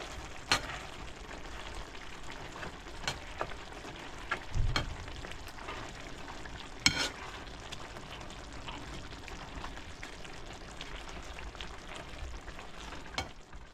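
Tomato curry sizzles and fries in a pan while a spoon stirs it, giving a steady crackling hiss broken by occasional scrapes and clinks of the spoon, close up, with no talk.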